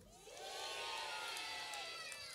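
An audience at a concert in Cenaia, Italy, cheers and whoops in a sustained, bright roar of many voices. The sound swells quickly and holds loud and steady throughout.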